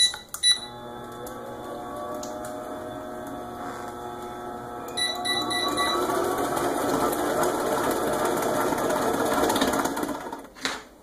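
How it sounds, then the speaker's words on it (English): An electric mixer whirs steadily as it mixes white cake batter with milk, a constant motor hum that rises in pitch and grows a little louder partway through, then cuts off, with no talk. "We're going to gradually add that last 3/4 of a cup and just incorporate it."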